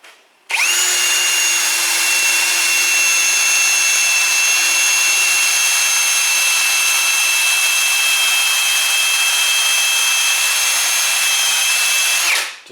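A whizzy wheel on a power tool cleans a front brake rotor on a Mercedes E550 cabriolet, spinning up to a loud, steady high-pitched whine held for about twelve seconds before winding down, close by with no talk.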